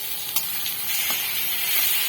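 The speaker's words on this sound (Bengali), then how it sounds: "দেখুন কি সুন্দর বেগুনটা ভাজা হয়েছে।" Eggplant slices fry in a pan with little oil, giving a steady close sizzling hiss with a couple of faint light taps.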